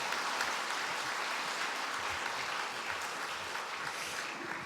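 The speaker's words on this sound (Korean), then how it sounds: "큰 박수로 격려해 주시길 부탁드립니다." A church congregation applauds newly ordained officers at an anniversary ordination service, steady broadband clapping filling the room throughout, with no talk over it.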